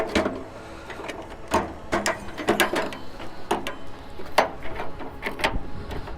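Tightening and adjusting the stand of a Smarttek camp hot water system, with a run of short ratcheting clicks and small metallic knocks close by, coming in uneven bursts.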